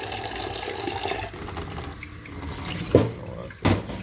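Tap water runs steadily into a kitchen sink while food is rinsed for Jamaican pumpkin soup with chicken foot and chicken back, with a couple of brief louder splashes near the end and no talk.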